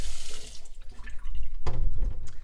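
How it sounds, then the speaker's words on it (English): Tap water running from a faucet into a filter reservoir, a steady splashing gush that grows heavier and deeper partway through, close and alone. "So let's say we open up the faucet, fill up your reservoir."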